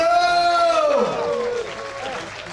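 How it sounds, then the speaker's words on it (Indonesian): An audience at a gathering with Bali's governor applauds for arak Bali, the traditional Balinese liquor, a dense wash of clapping mixed with crowd noise and a sustained, sweeping tonal sound that fades slightly toward the end. "tepuk tangan untuk arak Bali dong!"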